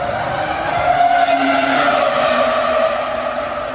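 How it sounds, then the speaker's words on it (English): A racing car on track screams past with a loud, high-pitched engine wail whose pitch shifts as it goes by, sustained for several seconds with no talk. "it's the greatest sound of a racing car ever"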